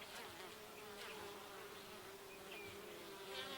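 Bees buzz steadily and close by in February, their drone holding for several seconds with no talk over it.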